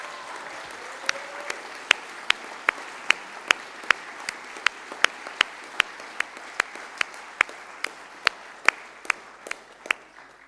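A conference audience applauds an award winner at the ALBA Party annual conference, with steady, sustained clapping that holds at a fairly even level throughout, sharp individual claps standing out near the front.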